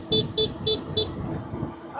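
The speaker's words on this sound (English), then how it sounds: "You're scaring them by honking?" A car horn toots four short, evenly spaced beeps at buffaloes on a road trip outside Saigon, close and loud, with people talking in the background.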